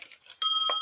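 The alarm bell of a cuckoo postman's clock rings once, close and bright after a soft rustle, its metallic tone hanging and fading slowly.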